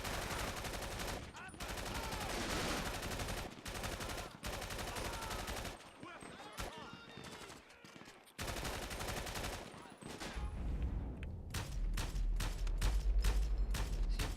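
Gunfire in the video game GTA V during a gang turf fight, dense rapid bursts of automatic shots with brief pauses, ending in a string of loud, evenly spaced single shots; a voice speaks briefly.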